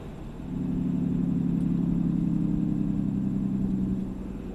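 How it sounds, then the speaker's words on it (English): A 2014 Ram 2500 6.7 Cummins diesel truck's exhaust brake, louder than stock, drones in a steady low rumble for several seconds, loud and close, then eases off near the end. "the exhaust brake becomes quite a bit louder than stock"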